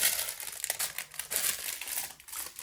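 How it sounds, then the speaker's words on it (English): Plastic bags crinkling and rustling continuously while a package is unboxed, close and fairly busy, with scattered sharper crackles and no speech. "It's so many plastic bags and they make a lot of noise"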